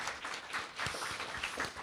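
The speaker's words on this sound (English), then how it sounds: "round of applause." Audience applause for first-year student readers at the end of a reading event, a steady patter of many hands at moderate distance, fairly soft and even.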